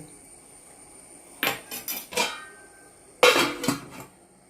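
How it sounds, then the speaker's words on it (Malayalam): A spoon stirs a hog plum fish curry in a cooking pot, giving a few sharp metallic clinks and scrapes in two short bursts against a quiet background. "അത് നല്ലോണം ഒന്ന് ഇളക്കുക"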